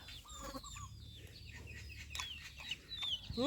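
Chickens cluck and call close by among scattered bird chirps, short irregular calls over a low background hum, with a louder squawk near the end.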